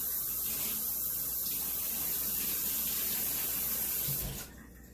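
Tap water runs steadily over a hand at a kitchen sink, a continuous broadband spray with a low hum underneath, then the flow cuts off abruptly near the end and leaves quieter room tone.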